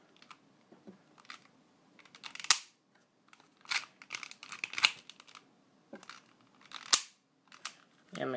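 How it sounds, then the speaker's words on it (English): A paper model of an FN M1922 pistol is racked and dry fired, producing a series of light papery clicks and snaps with scattered crinkling handling noise, close and fairly soft, with some talk mixed in. "So now, if I rack slide, dry fire it,"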